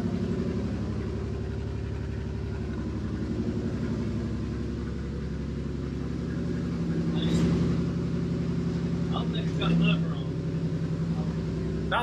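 An LS-swapped 2008 Jeep Wrangler Unlimited JK engine with no muffler, idling in a steady low rumble with a slight swell partway through, voices talking over it.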